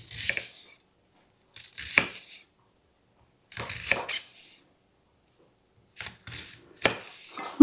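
Knife thinly slicing a West Virginia candy onion on a cutting board, in short bursts of quick crisp cuts with pauses between, close and clear with no talk.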